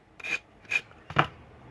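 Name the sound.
sanding block sanding napkin decoupage on a shell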